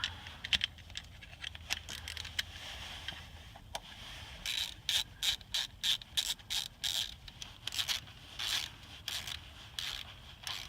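A ratchet tightens a 10 mm bolt on the VVT solenoid of a 1999 Lexus RX300 engine, the bolt threaded into aluminum. A few scattered clicks come first, then a rapid run of close, crisp ratcheting clicks in short bursts.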